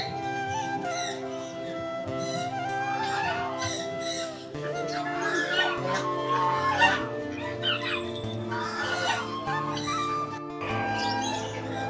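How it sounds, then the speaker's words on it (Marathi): Chickens and other fowl at a farm with rabbits, partridges and pigeons cluck and call in a steady overlapping chorus, with chirps and crowing-like calls rising and falling throughout, fairly close and moderately loud. "जबरदस्त कोंबडे आहेत."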